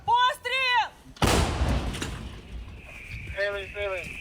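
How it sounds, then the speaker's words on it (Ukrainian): A heavy cannon blast erupts after a few spoken words, followed by a long rumbling decay, with more talking returning near the end. "Гармата!"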